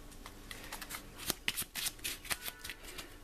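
Marvel Champions playing cards are shuffled close up, a quick flurry of riffling snaps and soft slaps in uneven bursts.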